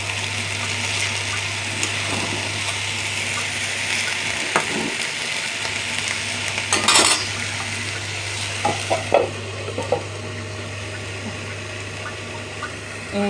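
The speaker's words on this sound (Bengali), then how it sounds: "বসাই দিছি আলু ভাজি" Potatoes frying in a pan for aloo bhaji, with a steady close sizzle running throughout and a low constant hum beneath, broken by occasional clinks and stirring scrapes near the middle and end.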